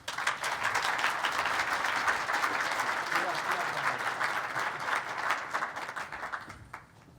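Audience applause as a speaker is welcomed onto the stage at a higher education event, a dense, steady burst of many hands clapping that carries on for about seven seconds and then tapers away.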